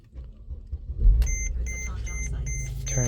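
A used car at an auction cranks briefly with a low rumble and then catches, settling into a steady running idle, with dashboard chimes beeping repeatedly over the engine.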